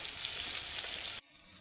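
Pointed gourd frying in oil on medium heat, giving a steady close sizzle that drops away sharply near the end.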